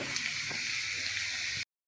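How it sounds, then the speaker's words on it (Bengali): Onions fry in a pan with a faint, steady sizzle, close by and fairly quiet, cutting off abruptly after about a second and a half. "ভাজছি, দেখুন পেঁয়াজগুলো"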